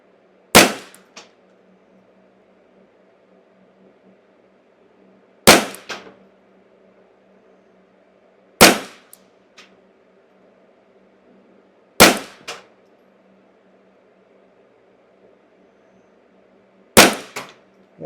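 Five sharp, loud shots from a Ruger 10/22 rifle firing Eley ammunition, spaced several seconds apart, each with a quick trailing echo or ring, and no talk in between.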